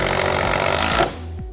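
Loud, steady power-driver whir of high-low screws going into a plastic portable toilet panel during assembly of a J&J Portable Sanitation Echo unit, running continuously before cutting off abruptly near the end, leaving a quieter low hum.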